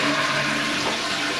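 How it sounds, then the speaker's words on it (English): A modern Japanese toilet flushing while the small faucet on top of the tank runs, giving a steady, close rush of pouring water through the whole short stretch with no talking. "this faucet will run when you flush the toilet"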